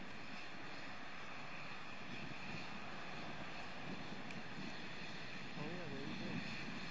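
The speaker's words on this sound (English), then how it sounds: "Discovery's three engines now powering the second stage." Space Shuttle Discovery's three engines during launch ascent after solid rocket separation, heard as a steady, distant broadband roar with a faint rumble, continuous and even throughout.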